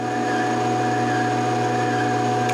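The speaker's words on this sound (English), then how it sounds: "they were not joking about needing a dust collection system for this tool to work properly" Minimax FS3 woodworking machine with its dust collection system running, a steady loud mechanical hum with whine and constant airflow roar, unbroken throughout.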